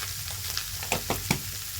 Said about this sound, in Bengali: দিয়ে ঢেকে এটা একটু ভেজে নেব সবজিগুলো